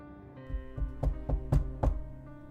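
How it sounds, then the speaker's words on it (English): Knocks on a door ring out in a short, uneven series of about six raps, sharp and close in an otherwise quiet space. "A knock on the door."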